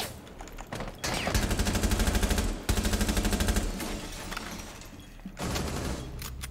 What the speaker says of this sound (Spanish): Una escopeta.